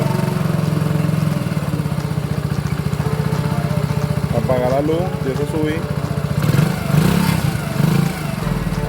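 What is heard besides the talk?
Eco Delux motorcycle engine running and revving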